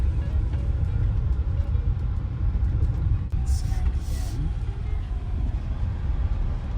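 A 2023 Genesis GV70 Electrified EV rolls over untarred sand, rocks and mud, a steady low road rumble with scattered gravel ticks and a brief brighter scrape midway, while a person talks over it.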